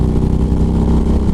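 A 2011 Harley-Davidson Road Glide engine rumbles close by, a deep, steady low throb with a slightly pulsing rhythm and no speech over it.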